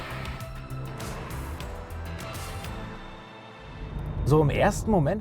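A Subaru BRZ with a 2.4-litre naturally aspirated boxer engine drones steadily on a mountain pass, its engine and road noise constant and moderately loud before a voice begins talking over it near the end.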